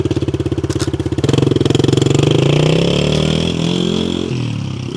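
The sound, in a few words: Yamaha TTR110 kids dirt bike taking off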